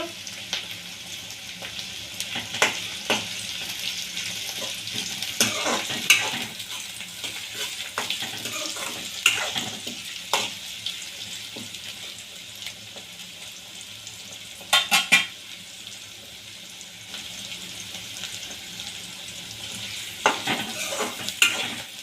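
Curry leaves sizzle in hot oil for a crab curry, a steady fry hiss broken by several sharp crackling bursts and spoon scrapes against the pan, close by with no talking.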